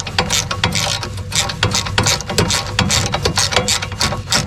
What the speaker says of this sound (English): Oh, gotta get that wrenched the right way. I'm going to take the bolt right out.